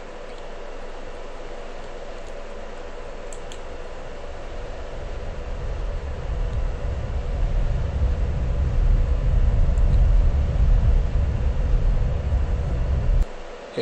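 Jet engine roar from a fighter taking off and climbing in the Falcon BMS 4.32 flight simulator, a steady broadband rush that swells louder and deeper over several seconds before cutting off abruptly at the end, with no talking.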